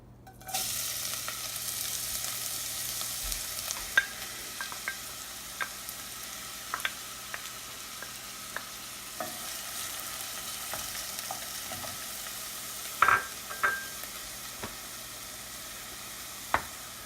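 Minced onion hitting hot vegetable oil in a saucepan, an immediate steady sizzle and crackle that continues throughout, close up, with occasional stirring clicks and scrapes.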